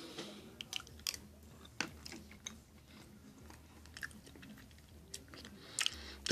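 Close-up chewing of a Velveeta cheesy lasagna bowl with meat sauce and a creamy cheese sauce: soft, irregular mouth sounds and small wet clicks repeat quietly for several seconds, with no speech.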